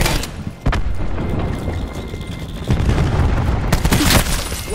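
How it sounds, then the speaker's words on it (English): Cluster grenade detonations in the video game Call of Duty: Black Ops 4, a dense run of booming blasts and crackling bursts that swells louder near the end, without talk. "Incoming cluster grenade."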